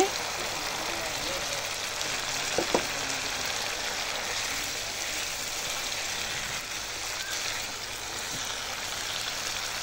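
Steady crackling sizzle of spices frying in a hot pan, with a brief clatter partway through as fried potatoes drop in.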